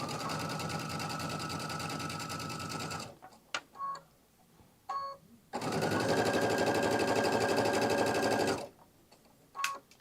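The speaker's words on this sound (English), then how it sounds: "Now remember, I'm sewing this on the back of the quilt." A sewing machine stitches binding onto the back of a quilt in two long, steady bursts of loud, close mechanical whirring. Brief clicks and handling sounds fill the quieter gaps between the runs.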